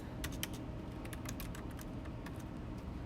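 Fingers type on a computer keyboard, a quick run of faint, soft clicks and taps in an irregular rhythm against quiet room noise.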